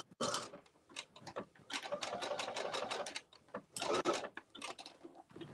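A sewing machine stitches dress straps for a cocktail dress, running in quick rhythmic bursts with brief pauses between runs, close and fairly quiet, and the mechanism ticks and whirs steadily.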